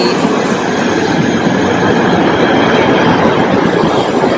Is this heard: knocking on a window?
no